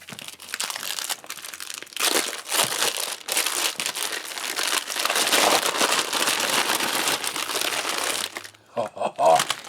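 A plastic double-bag package from a 2015 Mexican Style Chicken Stew MRE crinkles and crunches continuously and close up as it is opened, with a brief pause near the end before a few last rustles.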